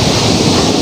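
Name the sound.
waterfall rushing water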